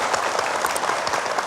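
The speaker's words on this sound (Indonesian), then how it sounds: "Boleh tepuk tangan lagi." A studio audience at an Indonesian religious television talk show bursts into dense, steady applause, with many hands clapping at once at close range, loud and continuous, with no voices over it.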